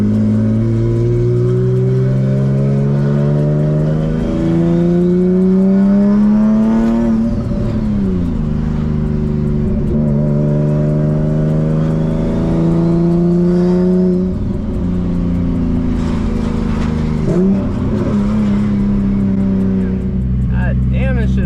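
A Nissan Z turbo car running with no downpipe or exhaust revs hard and raw up close, pitch climbing and dropping through several long pulls, loud throughout, with a voice briefly audible between revs.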